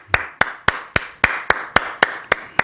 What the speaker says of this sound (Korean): 모든 아버지들에게 박수를 보내드립니다